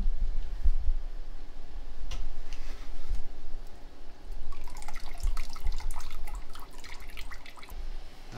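Freshly cooked chicken broth drips and trickles as it drains in a home kitchen, with steady small droplets and occasional louder splats over a low background hum, thickening into a denser patter in the second half.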